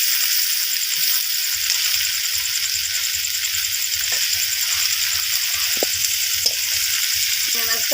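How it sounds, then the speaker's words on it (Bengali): Shrimp fry lightly in a pan for a spicy Bengali curry, a steady loud sizzle and oil hiss that fills the clip, with occasional utensil clicks and scrapes from stirring and no speech. "মাছটা হালকা ভাজা দিতে হবে"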